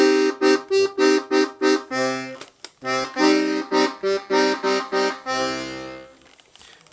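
Bass buttons on a Serenellini 343 mahogany piano accordion with 72 basses and four bass reeds: short detached chords play in a bouncy rhythm, then a sustained chord fades out, close and clear with no talking.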